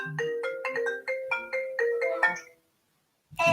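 A phone ringtone plays a quick, bright melodic pattern of repeated tones for about two and a half seconds, then stops abruptly into silence before a short sound at the end.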